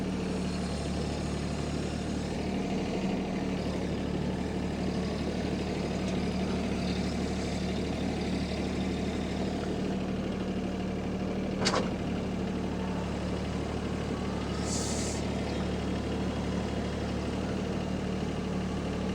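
A Mahindra tractor runs in two-wheel drive through snow with a DIY plastic-lumber cutting edge fitted, giving a steady, moderately quiet engine drone throughout with one brief sharp click partway through.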